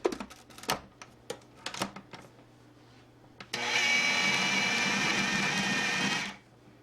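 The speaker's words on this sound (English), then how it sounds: "1 cup of white chocolate chips. And we blend those in very quickly." An electric mixer whirs loudly for about three seconds as a cup of white chocolate chips is blended into cake batter, starting abruptly and cutting off, after a few sparse clicks and knocks.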